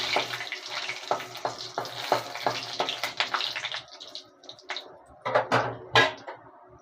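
Cumin seeds and bay leaves sizzle and crackle in hot oil in a home kitchen pan, a close steady fry broken by sharp stirring clatters and a few louder pops toward the end.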